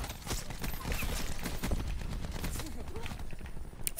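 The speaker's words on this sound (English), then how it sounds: "you're shooting through walls" Gunfire in Call of Duty Black Ops 4 multiplayer, with dense rapid shots crackling steadily over a busy game mix, shooting through walls during a Heist match, continuous and fairly loud.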